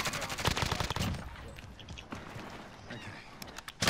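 SMG gunfire in a fast online shooter game, rapid bursts of shots packed into the first second, then scattered shots and game noise at a distance, with a final close burst at the end.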